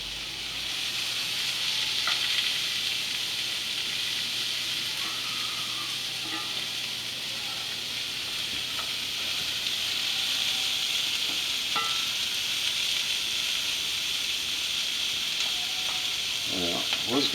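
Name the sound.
food cooking in a hot cast iron pan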